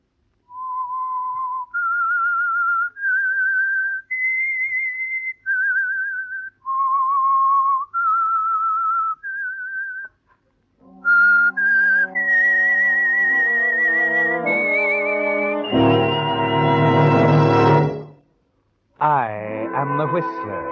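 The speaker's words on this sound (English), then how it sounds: "That whistle is your signal for the Signal Oil Program" A lone whistler performs the theme of the 1947 radio drama The Whistler, a clear melody of distinct sustained notes, followed by a full orchestra taking up the tune with rising, swelling chords and a brief pause before resuming.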